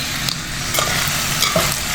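Jackfruit core and seeds stirred in a hot pan, a steady sizzle of frying broken by a few soft scraping strokes of the spoon, close up and with no voices.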